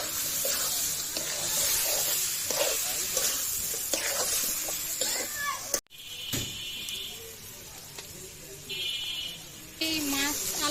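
Fried fish head and potatoes stirred into spiced masala in a pan, a steady close sizzle with scraping and stirring of a spatula, with a person talking over it and a brief clatter midway.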